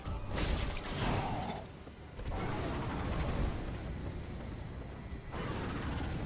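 Fire attacks in Dark Souls, three whooshing bursts of flame, each a rushing roar of a second or two separated by brief dips, fairly loud with no talk over them.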